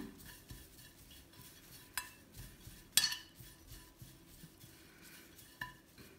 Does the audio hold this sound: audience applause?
no